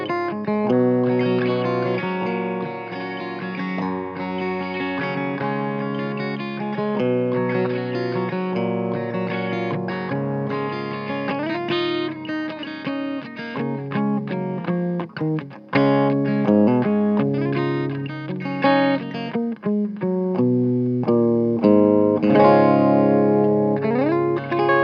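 A Gibson Les Paul electric guitar played on a clean setting through an Orange amplifier, sustained chords and single notes with a touch of reverb, steady and fairly loud with no talking.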